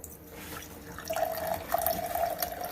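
Roscato wine pours into a soup pot for Jamaican red peas soup with smoked turkey and pigtail, a faint, steady trickling stream lasting a couple of seconds.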